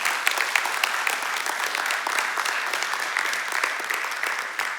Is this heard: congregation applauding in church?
yes